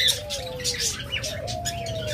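Lovebirds in a crowded pet-bird sale setting chirp and twitter continuously, with thin overlapping calls and soft coos from other birds nearby.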